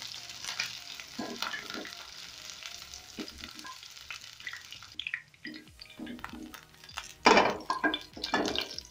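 Goat meat for curry fries in a pot, browning to a coating, with soft continuous sizzling, intermittent scraping and stirring, and a louder clatter of utensil against pan late on.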